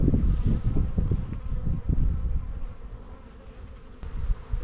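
Dense, steady buzzing of many honeybees swarms close around an open hive during an inspection, loud at first and easing slightly, with occasional wind-like rumble.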